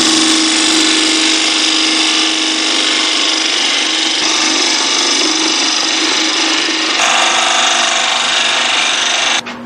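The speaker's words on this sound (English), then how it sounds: "So I'm going to cut that tenon." Wood lathe cutting a tenon on a twig vase blank to fit the chuck jaws, a loud, steady whirring scrape of the tool against spinning wood, continuous throughout with a slight shift in tone near the end, no talking.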